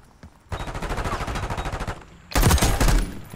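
Call of Duty Search and Destroy gunfire: a rapid automatic burst rattling for about a second and a half, a brief pause, then a second louder, harsher burst up close.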